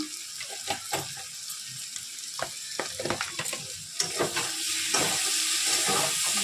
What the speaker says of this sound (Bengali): মাংস কষা হয়ে গেছে